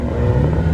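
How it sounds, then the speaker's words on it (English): Car fitted with an aftermarket exhaust revving at a rooftop car meet in Los Angeles: a short, loud, rumbling engine roar, close by. "look at the Bosso Zuka exhaust on this car."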